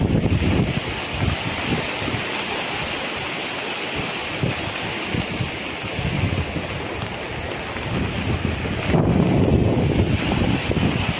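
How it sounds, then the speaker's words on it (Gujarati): Strong, steady wind roars and buffets the microphone throughout during heavy rain in a village, with broadband rushing noise and gusty surges, loudest toward the end; no voices. "પવન પુષ્કળ હે. વાહો વરાય તો પવન એક બાજુથી આવે છે ધોમ."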